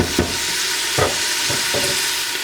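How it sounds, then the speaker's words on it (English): Bacon sautéing with carrots and onion in an Instant Pot for split pea soup, a loud close sizzle with several distinct scraping stirs of a utensil, spaced unevenly over the frying hiss. "as that bacon continues to cook, it will continue to release some more of that fat for what we are sauteing here"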